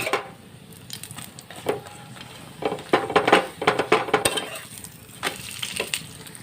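Oil sizzles and crackles as a petai paratha fries in a hot pan, with uneven bursts of spatter and a few light scraping clicks; no one speaks.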